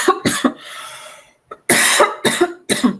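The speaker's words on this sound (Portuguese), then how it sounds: "Perdão pela tosse aí no ouvido." A person coughs close to the microphone in a series of harsh, abrupt bursts, several in quick succession with a short pause between groups and no talk.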